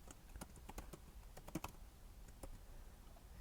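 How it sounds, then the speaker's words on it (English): Someone types a spreadsheet entry on a computer keyboard, a quick, irregular run of close, light key clicks, quiet and with nobody talking. "So I would type accounting"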